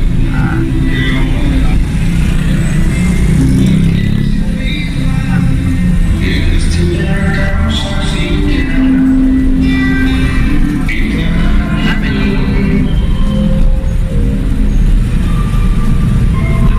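Road traffic with vehicles deliberately slowing as they pass, a continuous loud rumble of engines and tyres filling the whole stretch, with people talking in the background.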